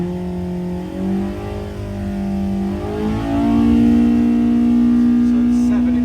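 A car engine revs hard on a dyno in a workshop, a steady loud drone that climbs in pitch and holds high toward the end, with a voice talking faintly beneath.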